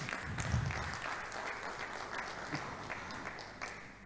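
Audience applause fills the hall at a Nigerian Institute of Quantity Surveyors Lagos Chapter award ceremony, a continuous, even wash of many hands clapping that holds steady throughout.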